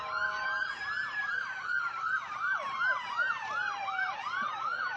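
Wailing police sirens from sheriff's and highway patrol vehicles marking the start of a Strawberry Festival parade cycle rapidly up and down, loud and continuous, with several overlapping tones and faint traffic rumble beneath.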